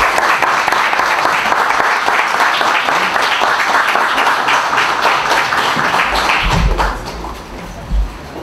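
Applause from members of a town council session, steady dense clapping throughout that thins and fades near the end, with a couple of thumps.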